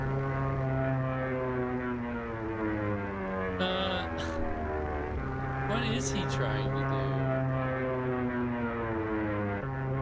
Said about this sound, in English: Is he even flying that plane?